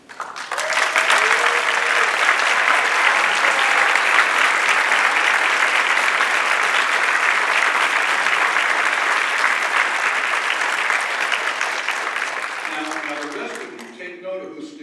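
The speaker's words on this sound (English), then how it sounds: "please stand up and receive our appreciative round of applause" Sustained loud applause from a large seminar crowd at the IAAPA Expo, steady for over ten seconds before tapering off with a few scattered claps at the end.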